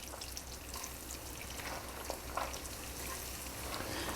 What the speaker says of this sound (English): So once this splutters, cumin seeds, we add onions in there.